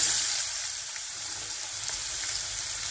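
Finely chopped onion sautéing in hot oil, a continuous close hissing sizzle with faint crackles, no talk.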